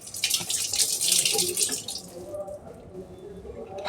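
Tap water runs into a container to dilute a vinegar-based foaming cleaning solution, a steady splashing stream that is loud at first, then tapers off into quieter trickling and clinks.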